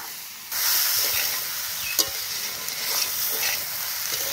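Fried, rinsed ingredients for bhoger khichuri are stirred in a hot pan, giving a continuous sizzling hiss with scattered scraping and clinking strokes from the spoon.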